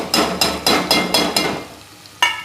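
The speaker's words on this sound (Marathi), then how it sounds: "त्याला पण चांगलं परतून घेऊ." Pav bhaji being sautéed in oil with red chili powder, turmeric and salt, with a spatula scraping and stirring in a regular rhythm of about six strokes under a steady sizzle, close and loud.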